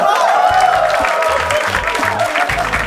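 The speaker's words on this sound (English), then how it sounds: "Keep clapping, he walks very slowly." Loud, sustained audience applause and crowd noise on a comedy game show as panelists are introduced, steady clapping with a voice and music-like tones running underneath.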